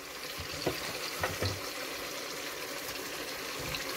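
Onions fry in a pan for a crab and plantain sauté, a soft continuous sizzle with a few light stirring knocks, fairly quiet and without voices.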